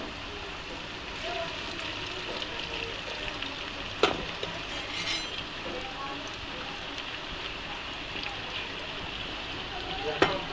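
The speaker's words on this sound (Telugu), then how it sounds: "ఇప్పుడైతే దీంట్లో నూనె పోసుకోవాలి. ఇప్పుడు నూనె అయితే గరమైంది. ఇప్పుడు ఆలుగడ్డలు చిప్స్ వేసి కూడా వేయాలి." Potato chips frying in hot oil give a steady, close sizzle and hiss like rain on a surface, with a couple of sharp pops along the way.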